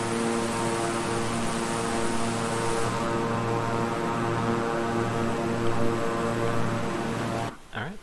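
A King Air 350i twin-engine propeller plane in Microsoft Flight Simulator, holding a steady, loud engine drone with strong low harmonic tones, continuous for several seconds before the sound shifts near the end.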